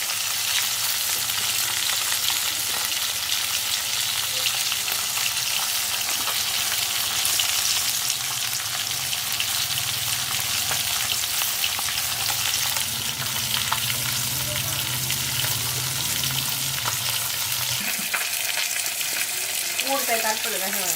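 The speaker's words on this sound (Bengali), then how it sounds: "সেই মাছটাই ভাজা হচ্ছে।" Freshly caught fish, taken from a paddy-field wetland with a bamboo trap, fries in a pan with a loud, steady sizzle that runs throughout, punctuated near the end by a few clinks and a brief voice.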